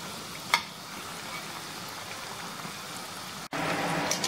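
Wheat pakoda fries in hot oil, giving a steady, close crackling sizzle like light rain, with a brief pop early on and a momentary gap before the bubbling returns louder.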